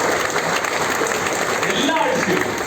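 Steady, close applause fills the room at a Kerala business opportunity meeting, with voices mixed in under the clapping.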